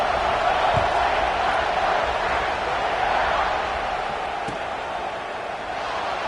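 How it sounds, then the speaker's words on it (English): A college football stadium crowd against Ohio State keeps up a steady, dense roar of buzzing voices, with no single voice standing out, just before a kickoff. "this crowd is buzzing after that last score"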